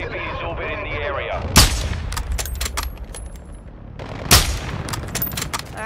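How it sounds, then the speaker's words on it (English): Two heavy booms from a cruise missile strike in Modern Warfare 2, each a sharp blast followed by crackling rumble, set among steady gunfire and in-game radio chatter. "Friendly cruise missile deployed."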